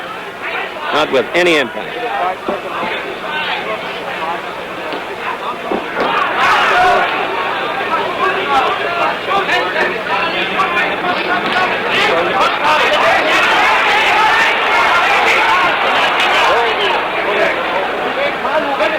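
A large arena crowd at a 1966 Muhammad Ali versus Karl Mildenberger heavyweight boxing fight in Frankfurt, Germany, swells into a sustained roar beneath steady commentary.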